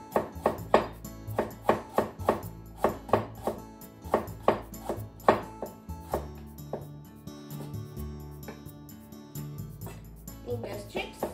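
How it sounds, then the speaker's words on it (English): A knife slices fresh, skin-on ginger on a cutting board in a quick series of crisp, close chops that pause briefly and resume, over a soft tonal background hum. "Let's mince it, so into slices first."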